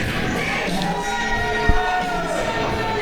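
A wrestling crowd at a live event cheers as a wrestler walks out to the ringside area, a steady roar of many voices at a distance with a single thud partway through.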